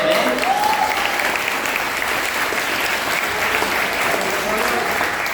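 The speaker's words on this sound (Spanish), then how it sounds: "Por favor, vamos a darle un aplauso a las mujeres, hermanos, el día de hoy." Sustained applause from a church congregation honouring the women during a Spanish-language sermon, a dense steady clapping wash throughout with a faint voice briefly audible near the start.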